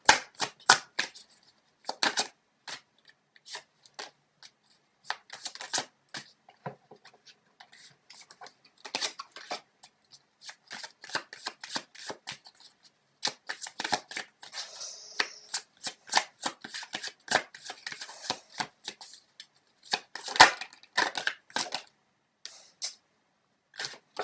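Tarot cards shuffled at length before another card is drawn, bursts of crisp riffling and flicking repeating irregularly over many seconds, close and clear with silent gaps, no speech.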